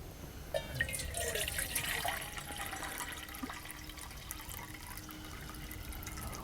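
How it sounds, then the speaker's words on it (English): At a camping stove setup, water from a roughly 20-ounce bottle pours into a water container, making a steady close trickle and splash that runs throughout without a break. "we'll go ahead and fill up our water container"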